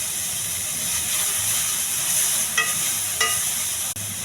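Onions, green chillies and a little ginger-garlic paste fry steadily in hot oil for a cauliflower curry, a continuous close sizzle with a few light clinks of stirring and no talking.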